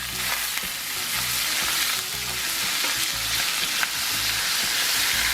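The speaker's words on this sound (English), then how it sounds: "Give them a good sear. I think we can do 2 at a time in that big old pan." Steaks searing two at a time in a big, very hot pan with garlic and butter: a loud, constant sizzle and spatter of frying, with no voices over it.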